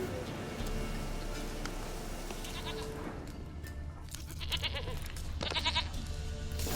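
Goat bleating in The Witcher 3: Wild Hunt, a few nasal bleats rising over a busy game soundscape of ambient rumble and effects, with a voice speaking briefly.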